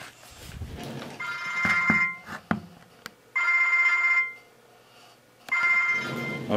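Phone ringing inside a closed metal ammo can, its repeated ringtone bursts fairly clear between rustling and handling knocks as the can is moved closer, with no speech.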